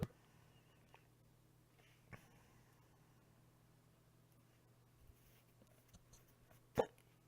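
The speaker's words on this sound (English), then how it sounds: "Excuse me, hiccups." A person hiccups several times, mostly soft and quiet with a sharper, louder one near the end, over a low steady hum with no talking.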